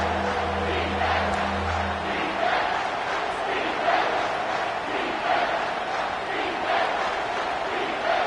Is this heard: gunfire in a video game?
no